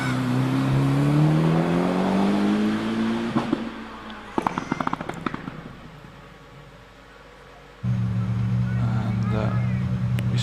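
Mitsubishi Evo 3 rally car at a Prescott rally event driving through the S bends: the engine note climbs, then cuts off with crackles and pops, goes quiet, and returns as a steady drone. A commentator talks over it.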